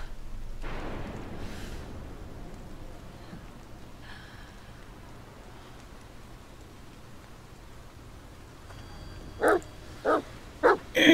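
Dog in the video game The Medium giving several sharp barks near the end, following a quiet stretch of ambient outdoor hiss and soft rustling.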